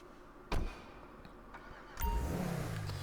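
A car in GTA Online, heard first as a sharp click or thump and then as an engine that starts and settles into a steady mid-pitched idle with a rising whine, fairly close, with no talking.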